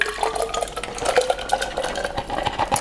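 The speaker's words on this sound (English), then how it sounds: "They just go into the blender." Soaked cashews and their soaking water are tipped into a high-speed blender jar, giving a close sloshing pour with wet clatters and splashes of nuts against the container.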